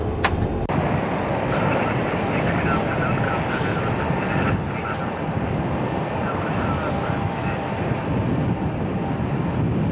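A Sabena airliner climbs out after takeoff with the gear coming up, its engines a loud, steady roar throughout, with faint voices in the background.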